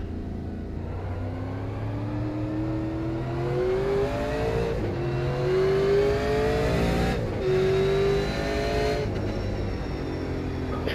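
A Super Late Model race car's engine revs in iRacing at Myrtle Beach, a steady loud drone rising in pitch through upshifts as it accelerates, with no voices over it.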